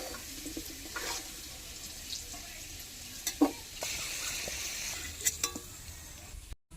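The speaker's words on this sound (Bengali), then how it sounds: "আলুগুলি লাল লাল করে ভেজে নিয়েছি তুলে নিচ্ছি" Potatoes seasoned with turmeric and salt fry in oil until reddish, giving a quiet, steady sizzle with occasional soft clinks and scrapes as they are stirred and lifted from the pan.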